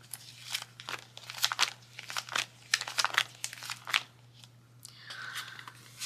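Paper cash envelope for budgeting being handled up close, with repeated crinkling and rustling bursts across the clip, a steady low hum underneath and no talk.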